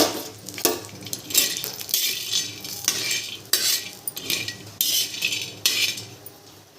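Karonda berries roast in a little oil in a pan while a spoon stirs them, giving a steady series of close metallic scrapes and clinks in rhythmic bursts, with no talking.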